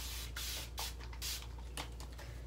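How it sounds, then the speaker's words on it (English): A spray bottle of lavender leave-in mists hair in several quick pumps, sharp hissy bursts spaced irregularly, close to the microphone. "let me just spray my lavender leave-in"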